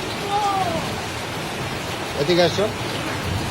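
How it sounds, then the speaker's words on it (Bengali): Steady rain pours down in a continuous hiss, with a voice calling out briefly over it. "বৃষ্টিতে ভিজো না"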